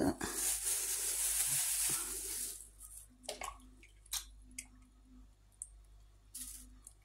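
Water poured off thawed supermarket meat splashes into a kitchen sink in a short hissing rush, followed by scattered drips and faint clicks in a quiet room.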